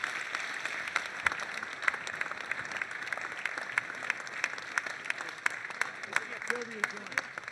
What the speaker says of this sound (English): We can applaud again